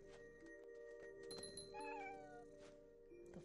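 A cat meows in the video game What Remains of Edith Finch, a short drawn-out meow rising over steady tonal game music and ambience, faint and without talk.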